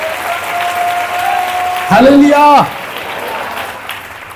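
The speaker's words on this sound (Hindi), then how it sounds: "जोरदार ताली बजा के" Loud applause from a church congregation during a Hindi sermon, a short burst of about a second under a voice calling out, with the preacher's voice continuing before and after.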